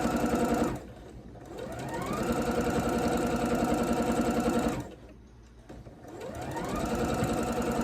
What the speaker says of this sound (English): The sewing machine sounded fabuloso